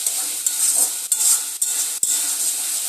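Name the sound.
stirring spices with Kashmiri chilli powder in pan for crab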